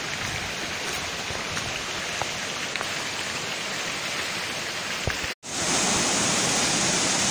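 Steady broadband rushing of a natural waterfall, loud and continuous, with a brief dropout near the end before the roar resumes.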